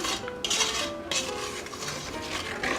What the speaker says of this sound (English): just stir it very slowly and make sure that the milk on the bottom isn't burning